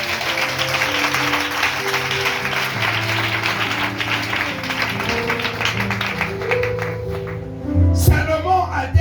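A church congregation applauding and cheering during a French-language sermon, sustained dense clapping that carries on for several seconds before a louder burst near the end.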